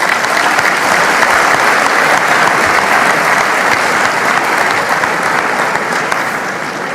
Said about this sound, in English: so another round of applause would be appropriate.